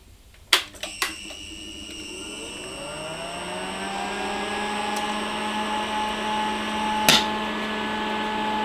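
A welder drawing about 130 amps through a socket-and-plug connector: a few sharp clicks, then a loud, steady electrical drone that rises in pitch and settles into a continuous hum, with one more click later.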